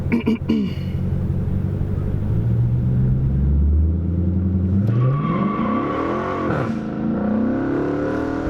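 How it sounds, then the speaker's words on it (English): A car engine rumbles nearby, its pitch rising and falling as it revs and moves past, loud and continuous throughout. "There's a car coming."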